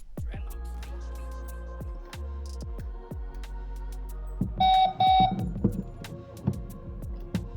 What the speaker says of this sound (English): It always makes a prompt sound.